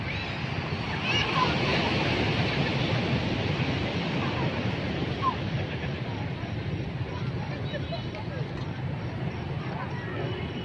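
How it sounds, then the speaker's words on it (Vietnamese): Gentle sea waves wash steadily onto the beach at Nha Trang, a constant broad rush of surf mixed with wind noise, with no sharp breaking crashes. "Quý vị thấy sóng nhẹ nhàng không?"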